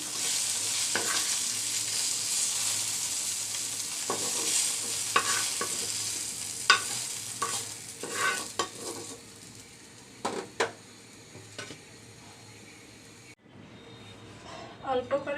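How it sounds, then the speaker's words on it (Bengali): Eggplant frying in oil in a pan with a steady sizzle, stirred by a spatula that scrapes and taps now and then, while someone talks over the cooking. "বেগুনগুলো ভাজা হয়ে গেল আমি নেড়ে ছেড়ে ভেজে নিয়েছি বেগুনটাকে"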